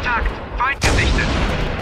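Gunfire from turret guns in the video game Halo: Combat Evolved Anniversary: a sharp, loud burst midway with a dense roaring wash of shots and booms after it, along with earlier short game sounds.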